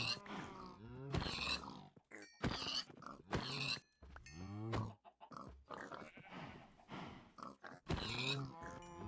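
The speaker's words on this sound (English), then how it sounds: "yes, there are a ton of piggies" Pigs in Minecraft grunt and oink in a series of close, distinct calls separated by short pauses, with several animals heard one after another.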